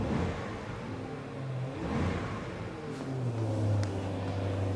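A 2023 Range Rover P530 Autobiography's V8 engine rumbles at idle, then revs up in rising surges toward the end, moderately loud and close.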